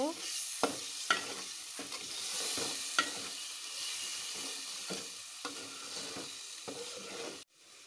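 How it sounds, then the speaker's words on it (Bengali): Fish paste (hidol or chepa) stirred in a hot frying pan for a taro-leaf dish: continuous sizzling under repeated sharp spatula scrapes, close and fairly loud, ending abruptly. "তাই এটা এখন আমি দিয়ে দিলাম। নাড়িয়ে নেব।"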